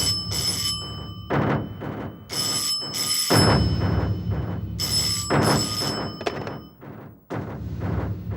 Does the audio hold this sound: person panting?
no